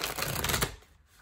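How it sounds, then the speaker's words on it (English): Tarot cards are shuffled in a brief, soft riffling flutter lasting under a second before trailing off into quiet. "One more shuffle for Leo."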